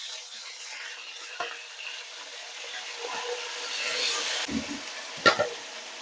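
Chicken pieces fry on a high flame in smoking-hot oil, giving a faint, steady sizzling hiss with a few soft clicks and pops that rise slightly toward the end.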